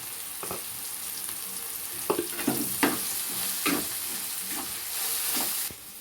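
Korameenu fish pieces with turmeric fry in a pan with a continuous soft sizzle. Several sharp stirring clatters punctuate the sizzle. No one talks.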